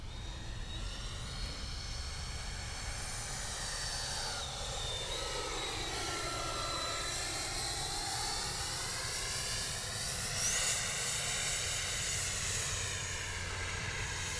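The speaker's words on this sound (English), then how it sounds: "I'm gonna make a high alpha pass here." A Flyfans 70mm JAS-39 RC jet makes a slow high-alpha pass, its ducted-fan whine holding loud and steady, then swelling and falling in pitch as it sweeps by overhead.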